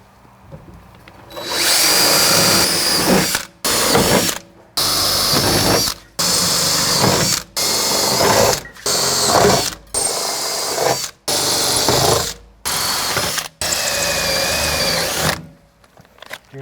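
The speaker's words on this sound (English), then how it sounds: "I'm going to go ahead and use the rock skin actually as a template to drill all the holes." A power drill bores a series of holes through Jeep rock skins, about ten loud bursts of steady whirring separated by brief silences.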